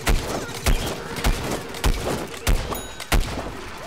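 Gunfire rings out in Plants vs. Zombies: Garden Warfare as a series of loud, sharp shots, about seven spaced blasts in under four seconds over a busy game background.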